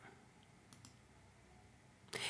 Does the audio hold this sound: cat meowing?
no